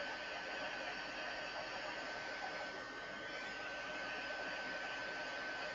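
A heat embossing tool on high blows hot air onto cardstock, a steady, faint whooshing hiss with a thin whine running through it, unchanging from start to finish.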